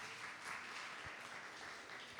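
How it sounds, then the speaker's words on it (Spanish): An audience at an Ibero-American academic conference applauding a bioethics speaker, a dense, continuous wash of many hands clapping at steady strength throughout. "Un aplauso."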